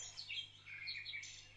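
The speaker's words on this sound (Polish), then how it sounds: "Ptasie śpiewy to coś więcej niż dźwięki poranka." Songbird chirps in high, quick warbling phrases, several bright twittering bursts repeated across a short stretch, faint and clear over a quiet low hum.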